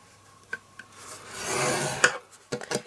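A scoring tool drawn along a board to crease a line for making a double compartment box, a soft rasping scrape with a few light taps and clicks, quiet and close.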